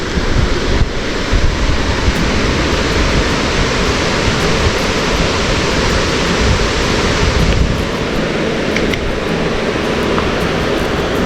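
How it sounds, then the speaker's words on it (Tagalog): Strong, swollen water rushing steadily at night, a loud continuous broadband roar like a river in full flow, close to the listener with no voices. "Medyo malaki ang tubig."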